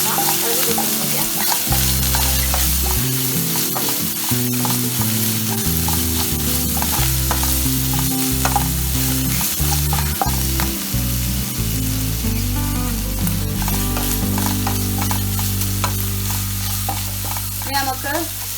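Ingredients for a Kerala-style beef roast sizzle and fry in a pan while being stirred repeatedly, a loud steady crackle with scraping strokes over background music.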